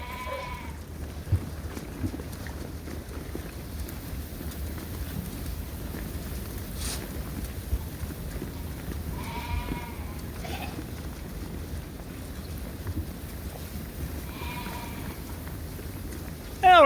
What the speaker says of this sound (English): I'm just feeding the sheep tonight.